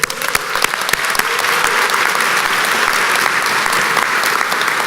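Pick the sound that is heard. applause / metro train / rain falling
applause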